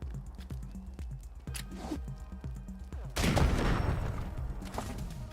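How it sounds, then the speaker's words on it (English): Grenade explosions in the Wasteland 3 video game, a loud blast with crackling debris arriving after a run of clicking interface and combat sounds, fairly near and dominant. "Let's go ahead and throw a grenade to try and deal with both the ones back here."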